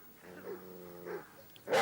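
A dog guarding an object gives a short, tense vocal outburst, a low rumbling bark-growl with a whining edge that rises and falls over about a second, close and moderately loud, ending in a brief noisy burst.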